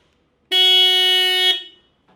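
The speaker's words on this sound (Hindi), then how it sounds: "3 सेकंड तक हॉर्न दबाते हैं तो" A BMW car horn sounds in one close, loud, steady blast lasting about a second, then falls silent.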